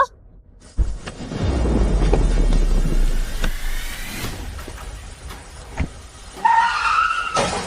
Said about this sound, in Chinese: 下雨天车子打滑了